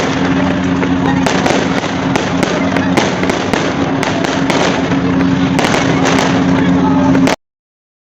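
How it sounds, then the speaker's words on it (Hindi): Fireworks burst at a nighttime gurdwara celebration of Bhagwan Shri Chand Ji's birthday in Mandi Lukhi, Haryana: a loud, dense, continuous crackle with repeated sharp bangs for about seven seconds, then abrupt silence. "भगवान श्री चंद जी के जन्मदिन के उपलक्ष्य में यहाँ पर आतिशबाजी भी की जा रही है।"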